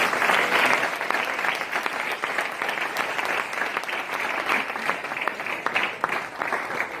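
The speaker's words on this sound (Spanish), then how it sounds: "Den un aplauso fuerte al Señor." A church congregation at an anniversary service claps loudly and continuously, a crowded burst of applause with uneven surges, with no speech over it.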